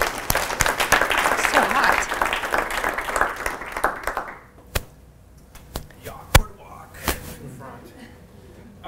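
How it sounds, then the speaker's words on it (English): An audience at a parking business summit breaks into loud applause that fades after about four seconds, leaving a few scattered claps and thuds near a speaker. "One round of applause for this guy."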